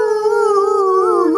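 A voice imitates a dog howling in one long, loud, sustained wavering howl that bends upward near the end, heard alone with no talk.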